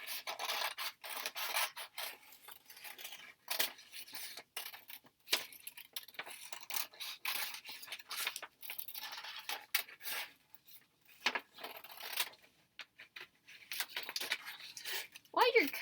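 Scissors snip through a paper cutout of a traced hand drawing in a run of close, crisp rasping cuts with short pauses between strokes.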